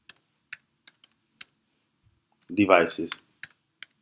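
Keys tapped on a computer keyboard to enter a command while rooting an Nvidia Shield TV from a Mac: sparse, isolated clicks spaced across the moment, close and crisp, with a brief burst of speech in the middle.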